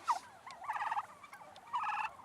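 Turkeys on a farm, near a shed where they were raised, give rapid warbling gobbles in two or three bursts over faint background noise, moderately distant, with no talking.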